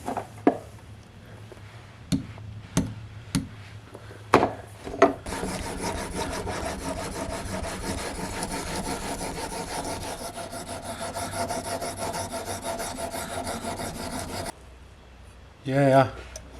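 Knife edge being worked on new diamond sharpening stones, first several separate sharp scraping strokes, then a long steady gritty rubbing stretch, close and fairly loud, ending with a brief final stroke.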